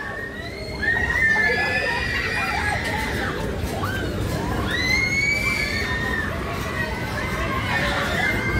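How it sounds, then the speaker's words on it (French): Girls shrieking and screaming repeatedly amid a busy crowd at the annual Vogue des Marrons fair in Lyon's Croix-Rousse, with high piercing cries rising over constant fairground chatter and bustle. "c'est affreux comme elles hurlent là"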